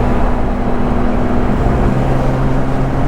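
Porsche GT3 RS with an MBRP exhaust cruising at low revs, a loud, steady, even engine drone with road rumble and no breaks.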